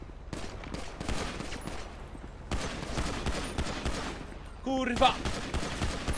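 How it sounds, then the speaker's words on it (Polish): Video game gunfire crackles in repeated bursts of rapid shots, loud and close, while a player shouts excitedly over it. "Ej, strzela do mnie"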